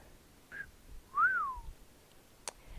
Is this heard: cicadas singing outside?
no